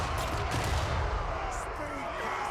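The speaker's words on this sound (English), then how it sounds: "the cannons continue to fire away" Cannon fire from a dwarf army in a Total War: Warhammer 3 battle, heard as a dense, continuous rumble of booming shots and battle noise, loud and steady throughout.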